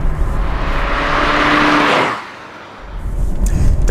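An Alfa Romeo Giulia Veloce Diesel drives past loudly with a broad rushing engine and road roar. It swells, then drops away sharply before the noise builds again.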